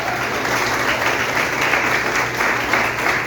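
A church congregation during a family worship service bursts into loud, dense applause, a continuous wash of many hands clapping at close range with no pause.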